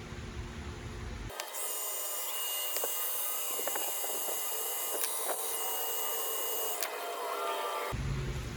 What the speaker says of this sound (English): I'm gonna try to heat it up with the gun and see if I can bring this down